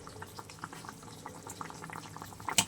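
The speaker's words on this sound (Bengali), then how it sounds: "খুব সুন্দরভাবে ফুটে গেছে ঝোলটা" Tilapia fish curry sauce boiling steadily in a pot, a continuous bubbling simmer with soft pops, close and fairly quiet with no voices.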